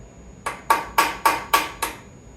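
Six sharp metal hammer strikes drive a Torx bit into a bolt on a Harley-Davidson Dyna fork tube, in a steady rhythm, close and loud, each ringing briefly before the next blow.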